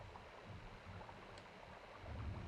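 A steady, low engine rumble from a sound effect in the Unity game engine hums continuously and swells slightly louder toward the end, with no talking.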